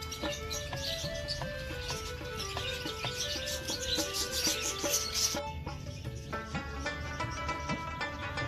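Many caged parrots chirp and squawk together at a theme park aviary, a dense continuous chorus of overlapping calls with no voices.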